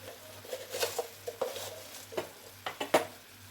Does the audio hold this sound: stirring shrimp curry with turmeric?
yes